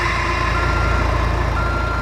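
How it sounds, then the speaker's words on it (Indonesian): A garbage truck rumbles steadily close by, a continuous low engine drone with a faint high whine riding on top and no pauses over the two seconds. "Kok ada suara mobil pengangkut sampah?"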